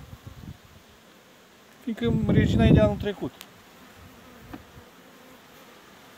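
Honey bees hum softly around an open hive whose queen is from the previous year, a low steady buzz beneath someone speaking briefly in the middle, with a few light knocks.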